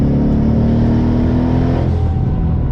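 A 1000 hp Ford Mustang GT in high boost mode revs hard at half throttle, with a loud, close, sustained engine roar and strong low harmonics that ease off slightly near the end.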